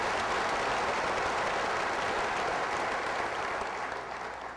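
Dense, sustained applause from a large seated audience at a North Carolina gubernatorial election forum, a steady roar of many hands that thins slightly toward the end, with no talking.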